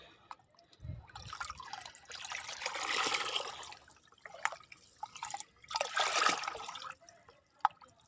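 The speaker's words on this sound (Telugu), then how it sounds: "ఇప్పుడు కొంచెం నీళ్ళు ఇచ్చాను ఈ మొక్కలకి అన్నిటి కిందాక" Water is poured onto potted hibiscus plants whose topsoil was replaced with kitchen waste, two soft, quiet pouring and trickling bursts with faint drips between them.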